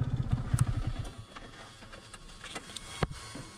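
Motorcycle ridden slowly on a rough village track toward a parking spot, its engine rumbling steadily up close with some clatter, strongest at first and easing off, no talking.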